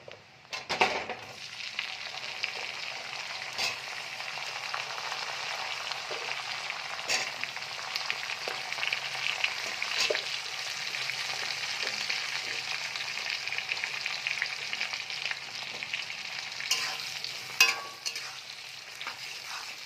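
Onion frying in a pan for chilli chicken, a steady loud sizzle running throughout with occasional scrapes and stirring knocks, no talking.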